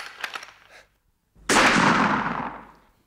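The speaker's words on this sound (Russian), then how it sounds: "Жарь 3 выстрела, прям подряд." Gunfire effect in a radio drama of Boris Lavrenyov's The Forty-First, faint crackling pops followed by a pause, then one loud close blast whose rumbling echo slowly fades out.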